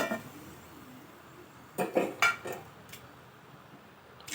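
Fried chicken keema balls are lifted from the pan onto a plate, heard as a few close metallic clinks and scrapes of utensil against cookware in a short cluster, otherwise quiet.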